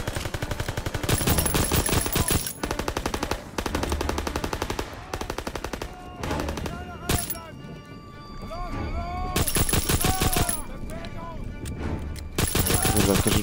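Rapid bursts of automatic gunfire from a World War II weapon in Call of Duty WWII, loud and close, broken by short pauses with someone talking between the volleys.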